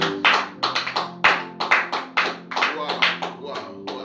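A church congregation applauds in a rhythmic, close burst of clapping, about a dozen sharp beats in a few seconds with voices mixed in beneath.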